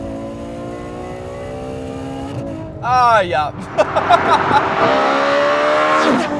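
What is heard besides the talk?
Ferrari V12 accelerating with wheel spin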